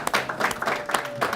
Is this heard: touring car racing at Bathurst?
no